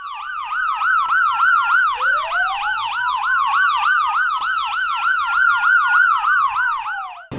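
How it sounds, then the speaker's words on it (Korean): A loud police siren wails in rapid repeating sweeps, close by and continuous, with a second rising tone joining partway through. "경찰차의 사이렌 소리예요"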